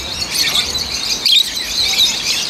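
Several birds chirp and tweet in high, quick calls at Sea Life Park on Oahu, with a brief squawk midway, fairly close against a light background hiss.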